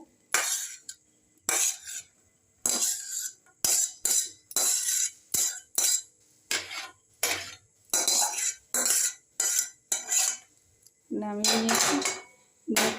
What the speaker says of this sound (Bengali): আবারও কড়া বসিয়ে দিলাম গ্যাসে